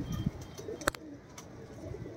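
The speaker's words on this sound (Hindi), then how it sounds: "नीले बड़ी खोपड़ी के, बड़ी साइज़ के कबूतर है" A pair of large blue Rajasthani pigeons with big heads, the hen a Shajapuri–Rajasthani cross, gives soft low coos close by, with a brief brighter call in the middle and no talking.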